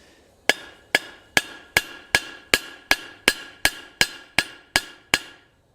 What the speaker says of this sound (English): And we're going to just drive that rivet down